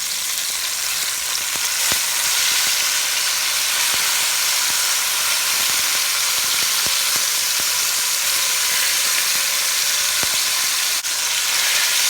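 Beef ribs sear in a hot pan with a steady, loud, continuous sizzle and occasional faint clicks, no voices present.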